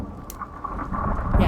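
Thunderstorm in the survival video game Icarus, with a loud, continuous rumble of thunder over steady rainfall that swells toward the end, heard alone without talking.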